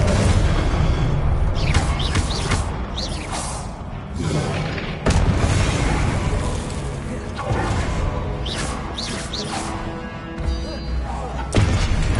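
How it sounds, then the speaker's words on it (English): Fiery blasting spell explosions from the Hogwarts Legacy game during a fight with statues, several heavy booms and thuds over about twelve seconds amid whooshes, crashes and a constant loud combat din, with a voice shouting spell names. "Confringo!"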